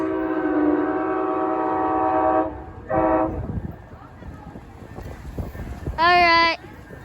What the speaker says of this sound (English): It is the new locomotive.